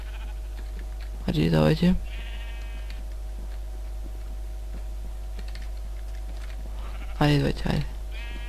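Two short sheep bleats from the Minecraft video game sound several seconds apart, loud and near. Someone speaks over steady computer keyboard typing and a low electrical hum.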